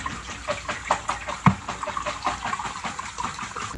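Tap water streams steadily over food being rinsed in a kitchen strainer at a sink during meal prep, with a few soft knocks and splashes as the contents shift under the flow.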